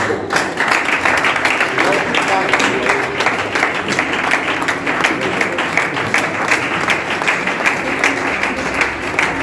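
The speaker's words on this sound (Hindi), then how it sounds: "तालियां जोरदार।" A crowd at a Safe Shop gathering in Bhadohi claps loudly and continuously, with a steady rhythmic pulse of hands, while an amplified voice talks over it at times.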